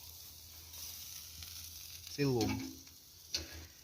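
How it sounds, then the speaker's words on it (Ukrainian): Homemade chicken sizzles quietly on a charcoal grill (mangal) with a steady, faint hiss. A voice speaks briefly over it. "Ще хай трошки смажиться."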